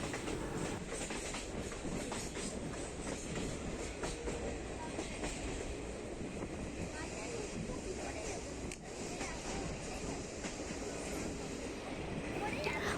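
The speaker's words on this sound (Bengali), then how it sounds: "পাহাড়িয়া রাস্তায় ট্রেন ঘুরে ঘুরে যাচ্ছে।" A train winds along a hilly railway on the Araku Valley to Visakhapatnam line, its steady broadband rumble and rattle continuous and fairly loud throughout.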